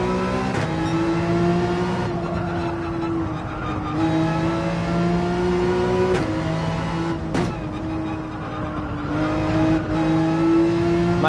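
A race car engine revs hard through gear changes in Gran Turismo 7 while it powers out of the Laguna Seca corkscrew, a steady loud drone rising in pitch with a few sharp shift cuts, no voices.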